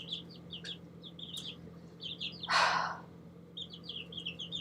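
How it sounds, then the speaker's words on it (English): Young chickens, a batch of chicks, chirp in rapid high peeps through the clip, with one louder rustle or flutter near the middle over a steady low hum. "God, I love these birds. I love chickens."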